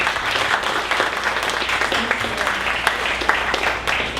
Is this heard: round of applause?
yes